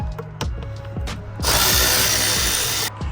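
A power tool works on the bolts of a 2015–23 Ford Mustang Mach 1 front bumper, with loud close ratcheting bursts and clanks and then a sustained high whirring spin for over a second.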